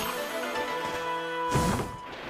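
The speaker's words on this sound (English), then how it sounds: "biting the bird sounds funny" A comic bite on a bird in Okami HD lands as a sudden crunchy burst with a rising squeak, set against a soft, sustained musical backdrop.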